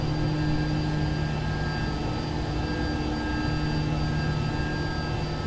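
A Bell 429 helicopter in the X-Plane 11 flight simulator gives a steady, dense turbine whine and rotor drone that runs unbroken and loud for several seconds, with no voices over it.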